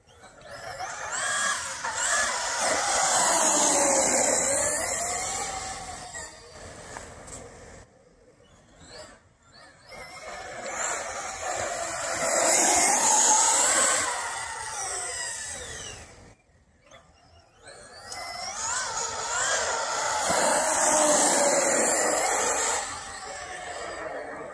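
A Traxxas Sledge 6s RC monster truck fitted with Arrma Kraton tires, running at night, whines in three long, loud bursts of high-pitched electric motor and drivetrain noise, each rising and falling, separated by brief near-silent pauses.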